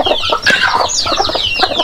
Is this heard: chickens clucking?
yes